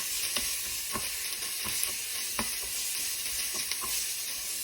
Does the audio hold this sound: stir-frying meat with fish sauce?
yes